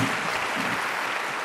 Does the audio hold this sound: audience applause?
yes